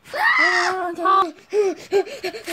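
A voice imitates a scream while playing with toys, with a long wavering shriek followed by shorter broken yelps and whimpers, loud and close.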